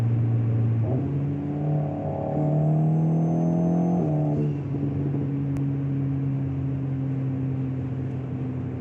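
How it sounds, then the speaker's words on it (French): An Alpine A110 S engine drones steadily, rising in pitch through acceleration and settling after a gear change, with a faint airy whistle from the air box riding over it. "On entend derrière la boîte à air qui siffle un peu"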